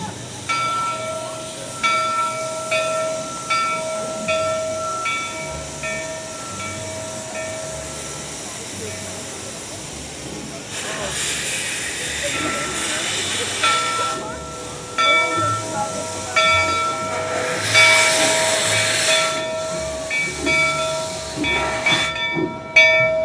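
A steam train at Knott's Berry Farm, parked beside a larger locomotive, hisses steadily with broad bursts of venting steam while sustained whistle-like tones ring out, set against ambient amusement park noise and occasional voices.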